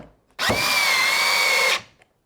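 A 20-volt cordless drill fitted with a Torx bit drives a screw in one loud, close whir that lasts just over a second and stops abruptly.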